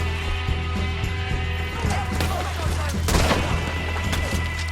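Gunfire rings out in a Red Dead Redemption 2 shootout, sharp cracks and a couple of louder bangs over a steady low hum and scattered battle noise, busy and continuous.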